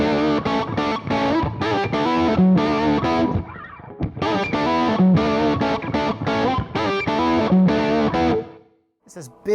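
An electric guitar played through a Mesa Boogie Lone Star amp, with no echo, gives a big, fat, warm, distorted tone. Loud phrases of notes and chords ring in bursts with short gaps, then cut off near the end.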